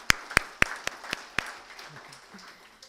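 Scattered applause from a business chamber meeting audience welcoming a new president, a few sharp separate claps at the start that thin into faint, sparse patter.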